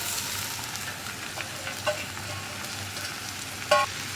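Sliced onions frying with ginger and garlic in a pan, a steady, fairly quiet sizzle with a few light stirring clicks and one brief louder clatter near the end.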